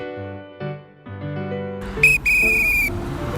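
A traffic safety guard's whistle gives one shrill, sustained blast lasting nearly a second, following a few soft tonal notes and heard alone without talk.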